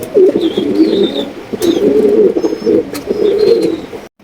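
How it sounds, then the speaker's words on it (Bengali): A pair of Danish pigeons, one yellow and one almond, coo close by in repeated low throaty rolls at a farm, with faint chirps from other birds in the background. "এখানে কিন্তু এক জোড়া ডেনিশ কবুতর আছে একটা হচ্ছে ইয়েলো ডেনিশ আর একটা হচ্ছে অ্যালমন্ড ডেনিশ"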